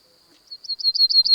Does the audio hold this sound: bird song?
yes